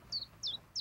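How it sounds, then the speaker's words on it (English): Three short, bright bird chirps spaced evenly apart, faint and alone against quiet background. "One chirp in a jar."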